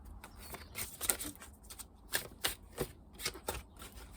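Oracle cards are shuffled by hand in a quick papery riffle of repeated flicks and slaps, close and clear, with no talking.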